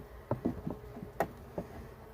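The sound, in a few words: honeybees buzzing at an opened beehive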